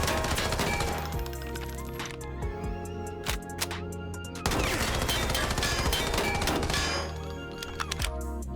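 MPX submachine gun fire in Arena Breakout Infinite, two sustained bursts of rapid automatic shots with sharp cracks and a brief pause between them, loud and close with no talking.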